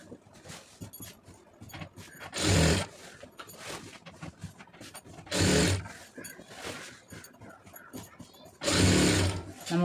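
A sewing machine stitches a fall onto a saree in three short loud bursts of rapid whirring. Someone talks throughout between and under the bursts.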